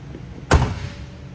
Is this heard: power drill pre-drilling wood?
no